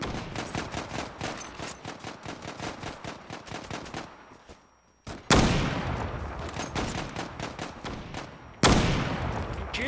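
Rapid, loud gunfire from a CheyTac sniper rifle in the online shooter Zula, a dense run of sharp shots filling the first four seconds, then two more heavy bursts after a short lull.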